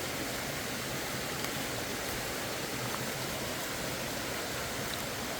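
A park waterfall rushes in a dense, steady hiss of falling water that stays loud and close from start to finish, with no other sounds rising above it.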